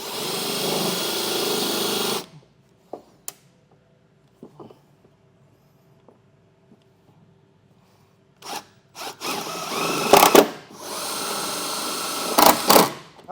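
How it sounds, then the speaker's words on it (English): A power drill whirs in short bursts, then in longer, louder runs as self-tapping screws drive in with a 1/4-inch bit into a 2024 GMC Sierra truck bed, with quiet pauses and light clicks between. "then we'll drill these in using a 1/4-inch bit"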